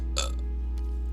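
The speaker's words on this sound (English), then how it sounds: "a burp" A single short, fairly quiet burp near the start, then a low steady hum with no talk.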